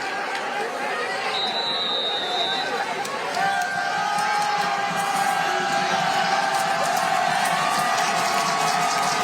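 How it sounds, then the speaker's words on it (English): A large stadium crowd at a high school football game roars and cheers continuously at a distance, a dense wash of voices with occasional whistles cutting through. "Listen to this crowd."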